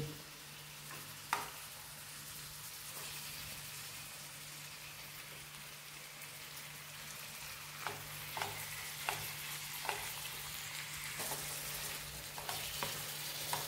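Large prawns fry in melted butter in a pan, giving a soft, steady sizzle under a constant low hum. Occasional faint clicks and taps of stirring come through, all quiet, with no speech.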